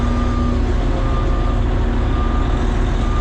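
A truck backs into a corner with a steady engine rumble, while a reversing beep sounds in a constant tone beneath it.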